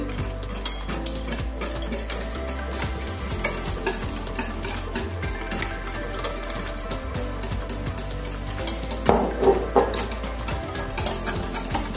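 Two eggs being mixed into a batter for flourless banana fritters: a utensil beats and scrapes steadily against a bowl in a rapid rhythm, close and even throughout, with a few louder clinks near the end and no talking.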